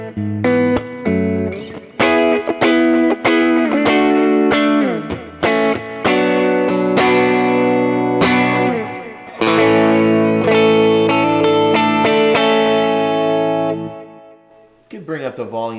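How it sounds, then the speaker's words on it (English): An electric guitar runs through a Kemper Green Scream tube screamer effect, producing a loud, warm overdriven tone as strummed chords and single notes ring out in a steady pattern without talking. "Here's now the sound with the tube screamer."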